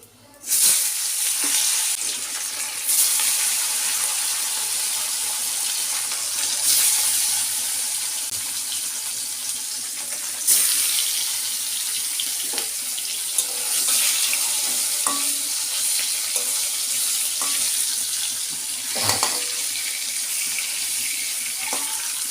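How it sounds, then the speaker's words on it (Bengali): Fish pieces frying one by one in a pan, a loud continuous close sizzle with bursts of spattering and occasional clatter of a utensil, heard alone without talk. "এবার একে একে মাছগুলো ভেজে নিই"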